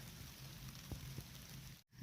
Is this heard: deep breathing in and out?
no